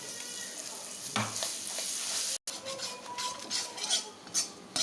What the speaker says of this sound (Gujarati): હવે લસણવાળું જે મરચું આપણે રેડી કરીને રાખ્યું છે મસ્ત એકદમ સરસ ફ્રાય થઈ જવા દઈશું